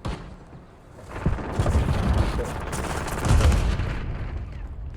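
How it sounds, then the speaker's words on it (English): A pizza gun fires in a video game, producing a dense barrage of booming, rattling shots in rolling bursts that swell and fade over several seconds amid game noise. "You used pizza gun on me?"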